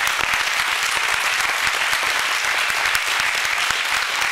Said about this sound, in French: Bravo à eux, on peut les applaudir.